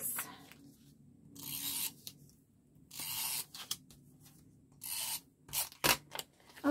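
A tape runner rolled across paper while making a vintage Scottish-themed mini folio: several short, close raspy rubbing strokes separated by quiet pauses, with a sharper click near the end.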